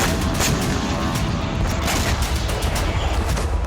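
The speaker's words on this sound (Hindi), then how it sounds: "धरती पर नॉन-स्टॉप विस्फोट कर रही है" Continuous barrage of explosions and artillery fire in wartime combat, dense booming blasts and gunfire crackling without pause, loud and sustained.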